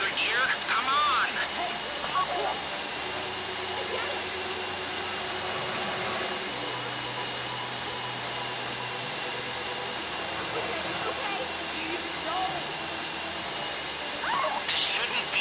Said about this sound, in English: That drill got another gear?